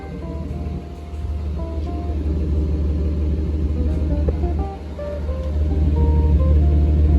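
A Mercedes-Benz W124 300CE coupe engine idles continuously at moderate volume in a low, steady rumble, with faint mechanical ticking on top.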